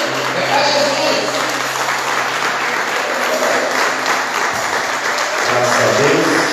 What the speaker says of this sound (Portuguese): Com palmas para Jesus, amém?